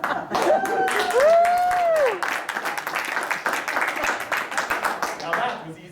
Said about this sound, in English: that was easy applause, I'll take it